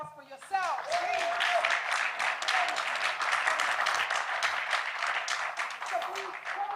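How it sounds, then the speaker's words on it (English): Sustained audience applause at a wellbeing and intentional living event, dense steady clapping from a crowd that holds for several seconds, with faint voices mixed in. "A round of applause for yourself"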